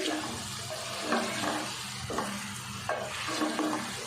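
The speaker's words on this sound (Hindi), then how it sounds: "अब डाल देंगे अदरक और लहसुन 1 बड़ा चम्मच, इसको भी फ्राई कर लेंगे।" A steady sizzle of ginger and garlic frying in a pan with occasional soft stirring scrapes, moderately quiet and close.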